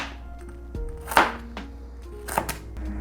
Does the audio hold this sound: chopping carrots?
yes